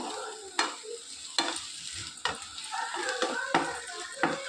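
Curry leaves sizzle and fry with tomatoes in a pan, a soft crackling hiss broken by regular scraping strokes of a spoon, fairly quiet and close.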